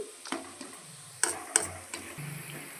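Tempering spices with garlic paste frying in hot oil for amla pickle, a soft close sizzle with a few sharp spoon clinks against the pan and light stirring.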